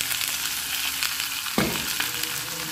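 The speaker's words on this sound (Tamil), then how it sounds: "கடுகு பொரியுது." Mustard seeds spluttering in hot oil in a pan while banana flower sundal is being cooked, a steady close sizzle with a sharper burst of crackling partway through.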